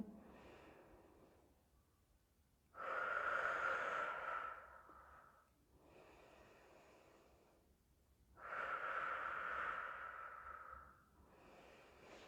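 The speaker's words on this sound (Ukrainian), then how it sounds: "і дихаю туди." Slow, deep breathing into the ribs during a postpartum recovery exercise, with two long, strong inhalations or exhalations separated by quieter breaths, close and alone.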